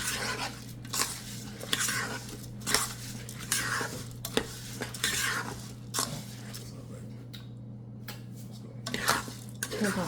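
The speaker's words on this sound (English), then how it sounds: "then we're going to stir it up" A spoon scrapes and clinks rhythmically through rice and peas with chicken bouillon in a rice cooker, with repeated stirring strokes over a steady low electrical hum.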